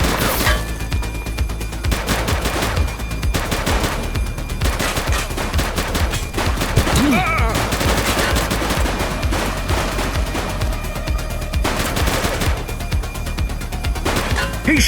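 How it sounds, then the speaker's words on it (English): Gunfire in The Precinct police game, loud continuous bursts of automatic and single shots throughout a firefight, dense and close, with brief shouted voices. "He's shooting!"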